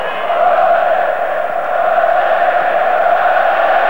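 A football stadium crowd at a 1988/89 Serie A match sustains a loud, steady chant of olé, a dense roar that holds unbroken throughout.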